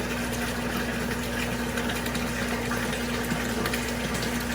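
Tap water runs steadily into a container during an aquarium water change, a constant rushing flow with a faint hum underneath, close by and unbroken throughout.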